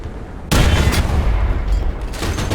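A single heavy cannon shot from an LVT A(4) in the War Thunder video game, a sudden booming blast with a rumbling tail that fades over a couple of seconds.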